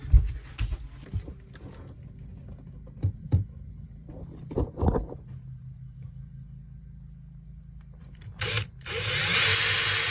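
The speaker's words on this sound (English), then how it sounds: "mark the holes with a marker and then drill out some pilot holes" Several short bursts of a power drill whir and stop amid quiet handling noises while drilling pilot holes for boat courtesy lights, ending in a longer, louder steady drilling run.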